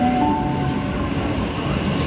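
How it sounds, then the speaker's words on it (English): A Sydney suburban train pulling into platform 19 at Central station, a loud, close, continuous rumble with a faint whining tone at the start, alone without voices. "that's another train as well, flying into platform number 19."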